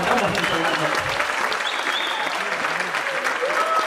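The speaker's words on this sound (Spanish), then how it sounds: "Gracias por sus aplausos, señores de Guayapán" Applause from the audience at a live sexology talk show in Guayapán, El Salvador, a steady dense wash of clapping that runs for about four seconds, with a few voices and whistles mixed in.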